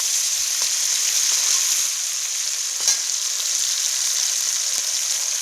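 Bhola fish sizzling in a pan just after being flipped, a dense steady fry hiss with occasional soft crackles and a brief scrape, close up and without talk.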